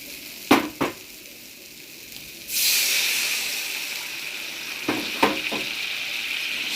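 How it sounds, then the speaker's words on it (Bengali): Water splashes into a pan of well-fried spice paste for a katla fish curry, kicking off a loud, steady steam hiss midway after a couple of soft knocks, with a few more light clinks near the end. "এবার অল্প জল দিয়ে দেবো।"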